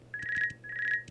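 Two bursts of an electronic telephone ring in the game VINCENT: The Secret of Myers, each a warbling tone about half a second long with a short gap between, clear and fairly close, no voices.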